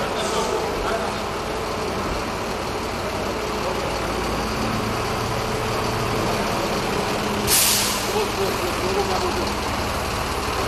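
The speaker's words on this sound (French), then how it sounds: "Félix Antoine Tshisekedi a convié toute sa suite à un tour dans un des bus Transco montés dans cette usine." A Transco city bus assembled in a Congolese factory idles with a steady diesel rumble, and a sharp hiss of air brakes bursts out near the end.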